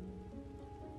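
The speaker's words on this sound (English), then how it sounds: "It's still raining inside the tent somehow." Steady rain drumming on a small, cramped tent in the Roblox backpacking game, a dense continuous patter at even loudness with a low tonal hum beneath, heard alone without talk.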